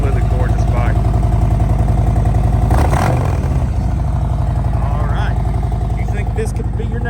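A 2019 Harley-Davidson CVO Street Glide with an aftermarket exhaust rumbles steadily at close range, its deep throaty note swelling in a brief rev near the middle before settling back to a loping idle.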